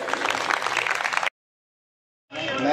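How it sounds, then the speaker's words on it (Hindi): Audience applause at a BJP workers' cell executive conference in Dwarka Sector 8, a dense burst of clapping that cuts off abruptly and then starts up again. "तालियां एक बार फिर।"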